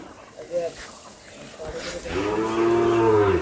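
Sahiwal cattle at a livestock market give a loud, drawn-out moo that swells over the last second and a half, after brief low calls and market noise.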